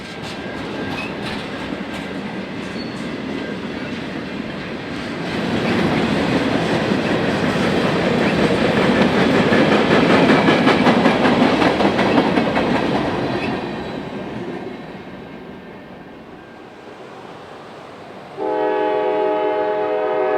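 A CSX freight train, M201, hauled by GE Dash 8 locomotives, rolls past in the evening with a loud, sustained roar of engines and wheels that swells and fades, followed near the end by a long, clear horn blast.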